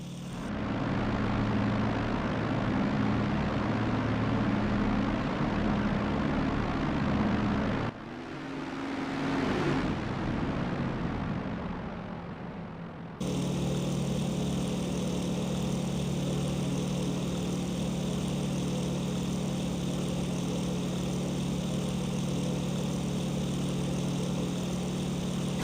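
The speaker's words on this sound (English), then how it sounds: "You join me here tonight in the BF-109 F-2 variant, taking off here from our airfield just shy of Stalingrad." Bf 109 F-2 fighter engine in the IL-2 1946 flight game, taking off from a snowy airfield near Stalingrad: a loud, steady droning roar that drops away briefly, then returns as a sustained, even engine hum.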